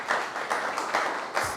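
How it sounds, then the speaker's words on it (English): Audience applause at a photography workshop event, a burst of steady clapping from a moderately sized crowd with no talking over it. "Please give him a round of applause."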